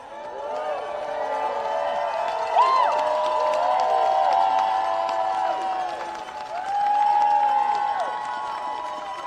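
A crowd at an outdoor education advocates' rally cheers and applauds continuously, with scattered shouts and whistles rising and falling.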